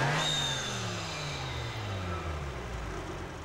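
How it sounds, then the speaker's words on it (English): A Volkswagen Corrado G60 engine settles from a rev into a steady idle, a continuous low hum that slowly drops in pitch and stays moderately loud with no talking. "rev the engine 3 times to over 3000 RPM,"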